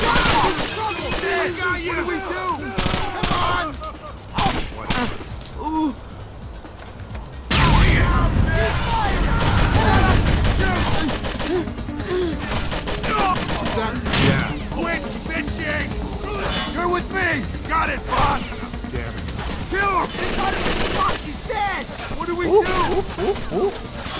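Gunfire in the video game Rainbow Six Vegas: loud, sharp bursts and booming shots, with a heavy sustained volley in the middle, mixed with people talking throughout.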